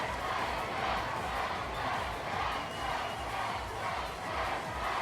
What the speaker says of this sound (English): Cheering intensifies.